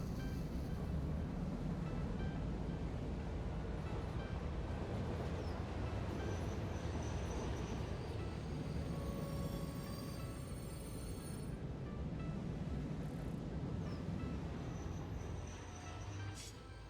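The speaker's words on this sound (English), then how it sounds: "just park the train down there" A train rolls along a rail main line in the video game Satisfactory, giving a steady, loud rumble of wagons with faint tonal whines over it, continuous and without talk.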